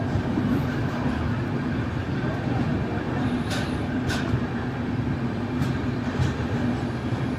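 A train runs through Agra Cantt station without stopping. A loud steady rumble fills the whole stretch, with wheels rattling over the rails and a few brief high squeals.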